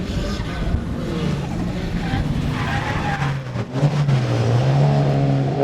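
A drift car with fresh tie rods runs on a track, its engine revving up and down through rising and falling tones while tires squeal and skid, close and loud, with some talking underneath.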